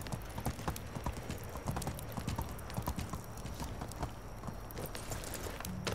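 Horse hooves trot in a steady, fast clip-clop rhythm in the medieval survival game Medieval Dynasty, set against a constant outdoor ambient background with no voices.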